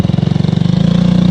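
Engine left running at idle, a loud, close, steady pulsing chug with an even rapid rhythm that holds for the whole moment, no talk over it.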